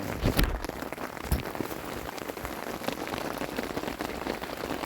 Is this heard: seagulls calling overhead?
no